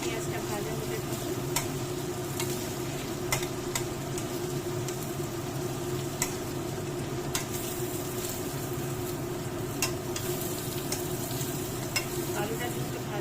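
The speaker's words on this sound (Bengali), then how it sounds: "ধিমে আছে, পেঁয়াজটা ভাজা হতে থাকুন।" Onions frying over low heat in a pan after cumin tempering, a steady close sizzle with a low humming hiss underneath and occasional sharp clicks of a utensil against the pan.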